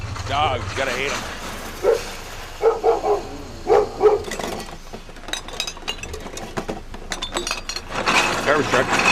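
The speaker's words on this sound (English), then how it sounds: "Dogs, gotta hate them." Dogs bark in short bursts from the middle distance in an outdoor street setting, repeated several times over steady background noise, with occasional clinks of glass bottles.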